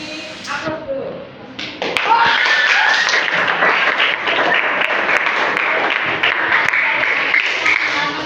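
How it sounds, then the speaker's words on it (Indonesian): A classroom gives applause for a student group, a dense burst of many hands clapping that rises after a brief voice and continues steadily, loud and close. "kita beri aplaus dulu"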